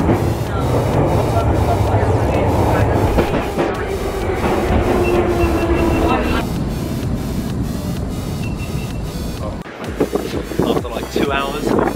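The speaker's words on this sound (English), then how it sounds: "That's our train." A train near Heathrow in cold, windy outdoor conditions around minus two degrees, heard as a loud continuous rumble and rush mixed with heavy wind buffeting against the microphone, with a voice briefly heard.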